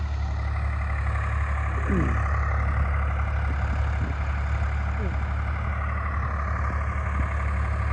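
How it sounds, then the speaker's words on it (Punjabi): A heavy tractor pulling a super seeder drones steadily and close during wheat sowing, a constant low rumble with someone talking over it. "ਇੱਕ ਟਰੈਕਟਰ ਸੁਪਰ ਸੀਡ ਨਾਲ ਜੀ ਜਾਂਦਾ ਤੇ ਦੂਜਾ ਅੱਗੇ ਅੱਗੇ ਵਾਹੀ ਜਾਂਦਾ"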